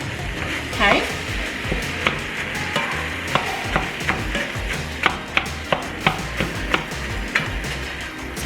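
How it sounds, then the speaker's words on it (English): A utensil repeatedly chops and scrapes ground turkey in a pan in a steady rhythm of sharp taps over a soft, continuous sizzle of frying meat. "So we'll start chopping it up a little bit and let it just kind of cook."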